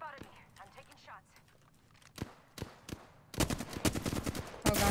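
Gunfire in Apex Legends: scattered single shots give way to a dense, loud automatic burst. A voice is briefly heard at the start.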